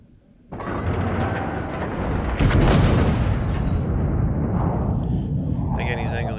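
A battleship's main guns fire a volley in a naval video game featuring the Grosser Kurfürst, a loud sustained roar of overlapping booms that swells midway and rumbles on without a break.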